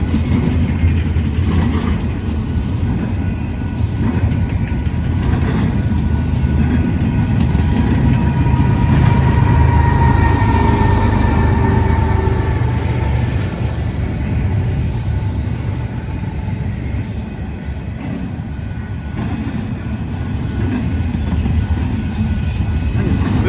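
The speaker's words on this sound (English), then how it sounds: "We got a mid-train DPU coming up." A freight train with a mid-train DPU locomotive rolls past at close range, a loud, continuous rumble of wheels and engine that swells in the middle and fades slightly toward the end.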